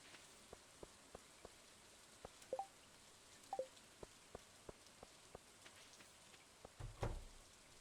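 Soft steady rain ambience from the farming video game Stardew Valley, faint and even, with a series of small regular clicks and a slightly louder thump near the end, no talking.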